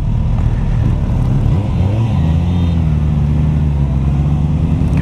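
A Suzuki GSX-S1000F sport-touring motorcycle engine drones steadily while riding, a loud close rumble with shifting pitch as the revs rise and fall, wind noise over it.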